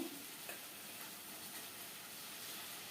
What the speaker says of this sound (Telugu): ఇప్పుడు దీంట్లోకి మనం కడిగి పెట్టుకున్న రొయ్యలు వేసుకుందాము